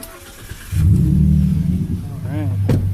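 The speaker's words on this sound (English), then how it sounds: "let's go ahead and start it. I'll give it at idle and then rev it up too." A Ford F-150 with a 3.7 V6 and an aFe Magnum Force Pro Dry cold air intake starts up and settles into a close, steady idle with a deep low rumble, a brief voice sounding near the end.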